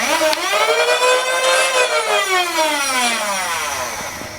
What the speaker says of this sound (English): It does appear to rev without a magazine,